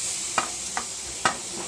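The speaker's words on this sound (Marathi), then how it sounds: "त्याच्यामध्ये आता मी खोबरं टाकणार" Freshly grated coconut from one whole nut cooks in a heated kadhai on a gas stove, with a soft steady sizzle broken by three short scraping stirs.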